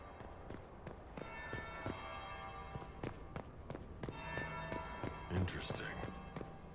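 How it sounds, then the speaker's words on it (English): A bell rings out in the fantasy game Dragon Age: Inquisition with sustained metallic tones under scattered footsteps and clatter, while a voice speaks over the top. "That's the bell."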